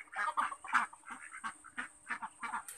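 Peking ducks on a farm quacking in a rapid, busy series of nasal calls, fairly faint and close together, with a steady high background hiss.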